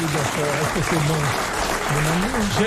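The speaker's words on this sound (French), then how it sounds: "on l'applaudit" Studio audience applause on a French television game show, steady dense clapping throughout, with a voice talking over it.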